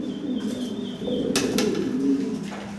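Lahori pigeons coo softly, and a short burst of wing flapping comes midway through, close by in a quiet pigeon loft.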